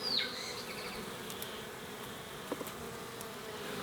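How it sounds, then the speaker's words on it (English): Honeybees buzzing steadily during a spring hive inspection of a queenless colony, a dense close droning hum throughout with a few faint clicks of handling. "These bees are actually really calm, which I'm surprised about."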